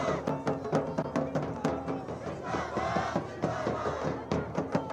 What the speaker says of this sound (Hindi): चमोली की गलियों में आज बीजेपी के समर्थन में जन सैलाब।